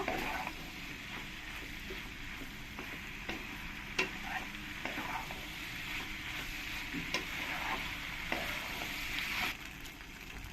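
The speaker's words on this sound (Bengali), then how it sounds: "পাস্তাগুলো দিয়ে ভালো করে আমি এই ভেজিটেবল মশলার সঙ্গে মিশিয়ে নেব" Boiled pasta being stirred into vegetable masala in a frying pan, a soft continuous sizzle with repeated scraping and clicking strokes of the utensil, close and fairly quiet, no voices.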